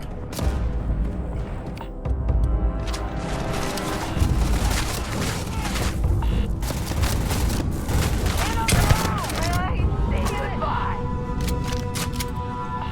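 Dense gunfire during a firefight in the video game Starfield: loud, continuous volleys of shots and booms that go on throughout, with a voice talking over them.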